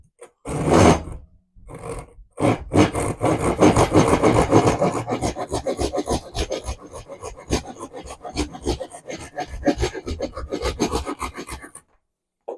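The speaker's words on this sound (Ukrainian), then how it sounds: "Пилочка, погнали, пробуємо, як вона пиляє." A hand saw cuts through a small pine wood bar, 30 by 25 mm, in a steady run of rapid rasping back-and-forth strokes, loud and close, after a few short starting strokes.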